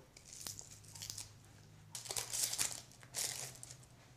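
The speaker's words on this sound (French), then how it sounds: "Je commence par éplucher mon échalote." Papery shallot skin crinkling and crackling in a few short bursts as it is peeled by hand in a kitchen, close up, with a steady low hum underneath and no talking.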